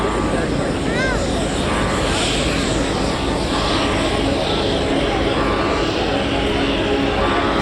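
Military aircraft landing at the RIAT airshow, a loud, continuous engine roar and rushing noise filling the whole span, with a spectator voice speaking briefly near the start and crowd chatter underneath.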